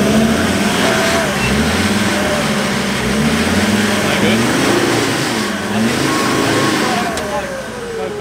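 A Ford Ranger Raptor fitted with a stainless snorkel labours off-road, its engine revving loud and close, pitch rising and falling as it strains for grip.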